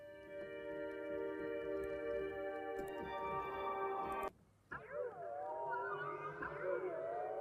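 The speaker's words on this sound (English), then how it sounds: "Just like flips of like harps" Sampled harp flip effects: a sustained shimmering stack of harp-like tones cuts off abruptly, then after a brief gap sweeping, bending harp glides rise and fall, fairly faint with no talk.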